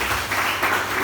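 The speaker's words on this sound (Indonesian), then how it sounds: "Bisa berikan tepuk tangan bagi Allah kita." A church congregation at a Good Friday service breaks into loud, dense applause, a brief burst of many hands clapping together.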